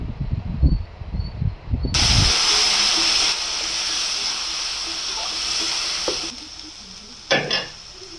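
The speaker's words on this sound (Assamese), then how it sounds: "এতিয়া মই পিচি থোৱা শাকখিনি ঢালি দিছোঁ" Ground greens tipped into hot oil with turmeric hit the pan with a sudden loud, close sizzle that settles into a steady frying hiss, with a few stirring scrapes near the end.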